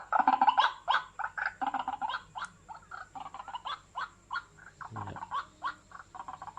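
Rapid chirping and warbling bird calls from an electronic bird lure in repeated bursts, slightly electronic in tone, loud and close with brief pauses between phrases.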